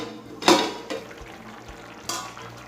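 A metal pot lid clatters open over kuska rice simmering on the stove, giving two sharp clanks with soft bubbling and scraping around them, close and unaccompanied by speech.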